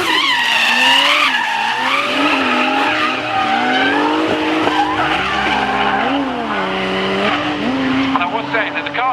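Drift cars at Castle Combe circuit, with tyres squealing loudly and continuously through long sliding drifts, the pitch bending as the cars slide. Engines rev underneath, and an announcer talks over the noise.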